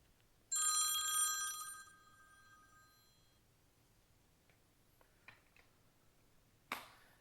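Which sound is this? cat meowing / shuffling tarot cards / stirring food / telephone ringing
telephone ringing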